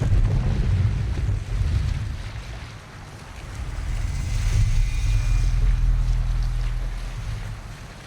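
Sailing ship under way on open sea in Assassin's Creed Valhalla, a steady low rumble of waves and wind washing against the hull, loud and continuous, swelling and easing across the stretch.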